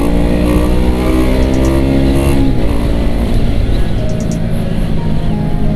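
A vehicle stuck in a traffic jam gets a slight rev, its engine droning loud and close with a brief rising pitch before settling back to a rough idle.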